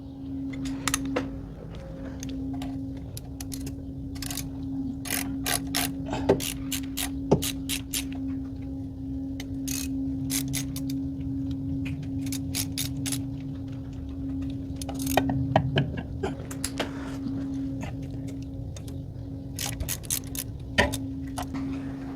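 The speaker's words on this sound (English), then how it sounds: "take the bolts off this side with the 7/16 socket" A ratchet with a 7/16 socket loosens the valve cover bolts on a 318 engine in a D150, giving scattered quick clicking bursts over a steady low hum, close and fairly faint.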